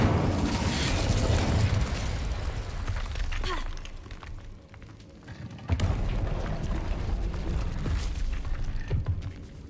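In Hogwarts Legacy, an Incendio fire spell erupts as a loud, roaring blast with crackling bursts, then eases briefly before a second sharp whoosh of flame flares up and keeps rumbling.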